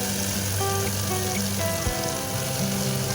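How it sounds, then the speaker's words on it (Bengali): Tomato, ginger and green chillies fry together in a pan, a steady close sizzle with light crackling, while faint tonal background music plays underneath. "টমেটোর সঙ্গে একসঙ্গে ভাজছি"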